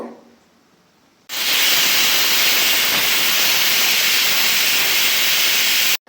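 A pressure cooker cooking vegetable bath vents steam in a loud continuous hiss that starts abruptly after a quiet moment and holds steady until a sudden stop.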